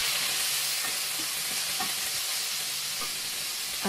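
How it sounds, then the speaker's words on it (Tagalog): Minced beef stirred and fried in a pan with salt and pepper gives a steady, close sizzle under a constant hiss, with soft scraping knocks from the stirring scattered throughout. "Ihalo na rin natin yung minced beef."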